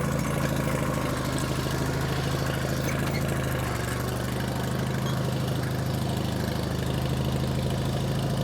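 A tractor engine idles in a steady, continuous low rumble with a faint knocking pulse, close and even throughout.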